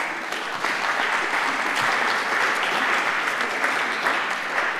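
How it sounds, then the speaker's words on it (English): Audience applauding a presenter at a startup pitch competition, a sustained, even wash of clapping from a sizable crowd that holds steady throughout. "give him a warming applause"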